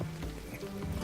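Roach the horse gallops in the video game The Witcher 3, with quick, steady hoof clip-clops that sound soft and somewhat distant, heard alone.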